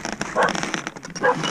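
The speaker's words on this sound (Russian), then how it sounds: "О, что тут собачка?" A puppy at a craft workshop in Yakutia gives two short, close yelps or barks with light scuffling between them.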